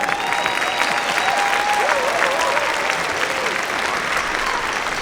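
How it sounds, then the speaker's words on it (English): Steady, loud audience applause at a school district band festival, many hands clapping continuously for several seconds with faint whistles and crowd voices mixed into the clapping. "Yeah, sure, you can applaud that."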